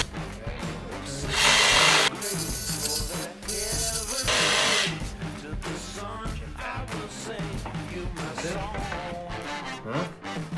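A jigsaw cuts wood trim to cope a miter joint, giving two loud, dense bursts of buzzing saw noise with a gap between them, followed by quieter tapping and handling sounds.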